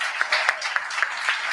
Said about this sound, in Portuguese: Dê um aplauso a Jesus pela vida deles.